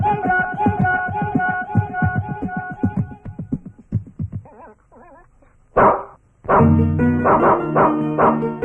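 A stray dog barks loudly at close range, with a run of repeated barks followed by whines and sharp yips.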